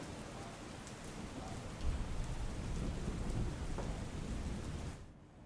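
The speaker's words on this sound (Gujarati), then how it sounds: "અલગ અલગ વિસ્તારોમાં વરસાદ વરસી રહ્યો છે" Steady heavy rain pours down in Ahmedabad, with a low rumble of thunder swelling near the start before the downpour cuts off at the end.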